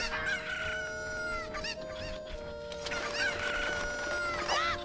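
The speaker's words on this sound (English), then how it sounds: "We need this chicken to jump off this ledge to get that chicken." Chickens in the video game The Legend of Zelda: Ocarina of Time, a steady stream of clucking and crowing from several birds, loud and close, with no talking.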